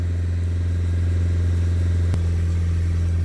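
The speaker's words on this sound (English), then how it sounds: "Gotta wait for that engine to warm up a bit because it's still very cold." Renault Traffic van with a Nissan engine idles while cold and warming up, a steady low, continuous drone held throughout at close range, with one brief sharp tick near the end.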